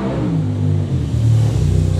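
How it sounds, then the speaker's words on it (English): A motorbike passes nearby outdoors with a loud, low engine rumble that swells slightly as it goes by, with no voices over it. "Just wait for that motorbike to go past."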